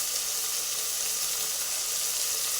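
Cauliflower florets and potato pieces frying in hot oil, a steady, even hiss of sizzling that holds constant throughout, close and fairly loud with no talking.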